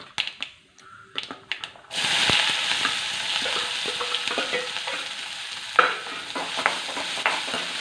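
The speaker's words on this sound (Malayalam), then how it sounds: "ആ എണ്ണയ്ക്കകത്തോട്ട് തന്നെ നമ്മൾ ഇതെല്ലാം വഴറ്റുവാണേ" Chopped onion sautéing in hot oil where mustard seeds have just popped. A few soft clinks open, then a loud, steady sizzle runs close up to the end.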